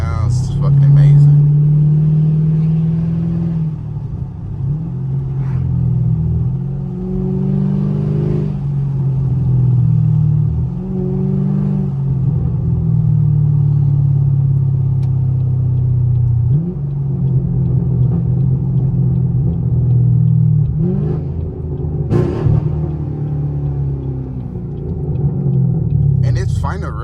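A catless Camaro SS V8 engine rumbles loudly and continuously from inside the car, with deep revving swells and drops as it downshifts and hits the limiter, under occasional talk.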